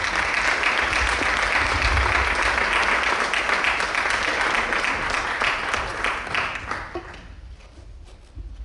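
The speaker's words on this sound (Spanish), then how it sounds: "Os pedimos un aplauso." A seated audience gives sustained applause, steady and fairly close, for several seconds before the clapping thins out and fades near the end.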